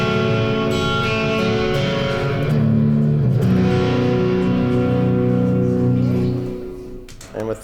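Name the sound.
clean electric guitar through Vox AC amp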